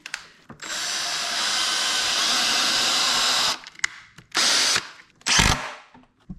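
A power drill whirs steadily for a few seconds, stops, then runs in two more short bursts into wood, close and loud with no talking.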